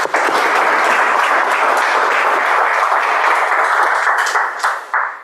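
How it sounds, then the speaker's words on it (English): Sustained applause from a meeting audience, loud and dense throughout with no break, thinning slightly near the end. "please continue your applause"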